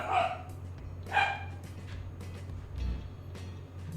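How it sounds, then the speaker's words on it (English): A pet dog barks twice indoors, about a second apart, moderately close, over a steady low hum, followed by quieter stray noises. "sorry for my dog barking"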